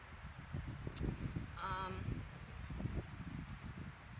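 Gusty wind buffets the microphone with low rumbling bursts, while faint rustling and a brief tonal sound come through in the background.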